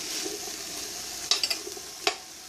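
Okra sautéing in a pan for a stew, a quiet even sizzle with a short burst of spatula clicks and taps against the pan midway.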